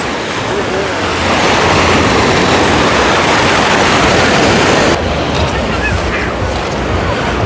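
Sea waves surging ashore as the tide rises on a beach, a loud, continuous roar of surf with wind noise, steady throughout.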